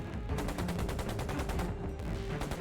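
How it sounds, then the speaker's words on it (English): Volleys of musket gunfire at the first shots of Lexington and Concord in April 1775, a dense run of sharp repeated cracks over a low rumbling bed, steady and fairly loud throughout. "the first shots rang out at Lexington and Concord"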